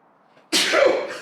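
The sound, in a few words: person sneezing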